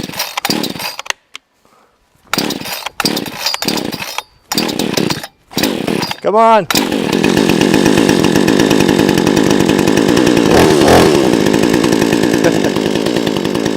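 Cheap Amazon chainsaw sputtering through several short failed starts, then catching and running loudly with a continuous high-pitched engine whine close by, after a brief spoken word.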